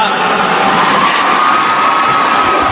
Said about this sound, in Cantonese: 大家俾啲掌聲支持下。